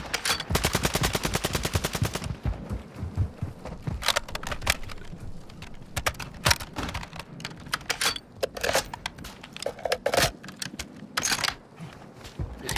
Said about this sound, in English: He's getting sniped at.